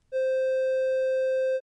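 A synthesized triangle wave tone plays as one steady, unwavering pitch that holds alone for about a second and a half before cutting off cleanly.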